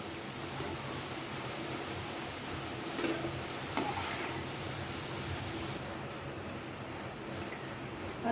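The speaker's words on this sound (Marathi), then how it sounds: "बटाटा आपल्याला पूर्ण शिजेपर्यंत तळायचं आहे" Potatoes fry in a pan for a paneer veg biryani, a broad steady hiss of sizzling with stirring scrapes, dropping a little in level near the end, no talking.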